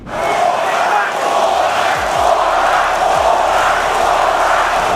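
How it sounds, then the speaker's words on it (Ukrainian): A boxing arena crowd roars and chants "Cobra" in unison, a dense, loud wall of voices sustained throughout with rhythmic swells. "Зал це підтримував активно вигуками Кобра."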